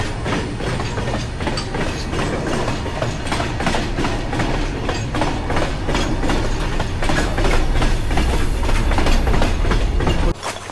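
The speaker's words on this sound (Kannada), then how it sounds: "ಟ್ರೈನ್ ಹೋಗ್ತಾ ಇದೆ." A train passes on a railway track near the Doodhsagar waterfalls trek route, with loud, steady rhythmic clickety-clack of wheels over rail joints that continues for several seconds and cuts off abruptly at the end.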